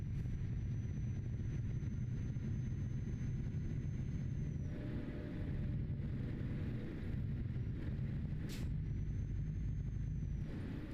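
A truck drives steadily in Euro Truck Simulator 2, its low engine rumble constant and fairly loud throughout, with a faint high tone drifting in and out above it.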